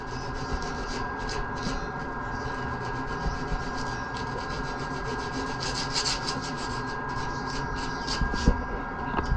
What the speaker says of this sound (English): This is how we sand the lap and so forth, and a bit on the tip.